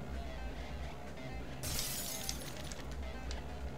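Glass shatters in a video game race, a sudden bright crash of breaking glass partway through with scattered tinkling after, over a constant game ambience.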